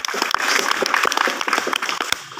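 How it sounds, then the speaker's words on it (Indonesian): An audience at a village head candidate presentation in Kampung Wambena applauds candidate number 1, many hands clapping densely and steadily at close range for a couple of seconds. "mari saya sekali mengajak kita untuk berikan aplaus untuk kandidat nomor"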